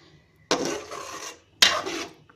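Two separate scraping strokes of a spoon stirring garlic and pepper gravy in a pan, each about half a second long, close up and fairly quiet, with short pauses between them.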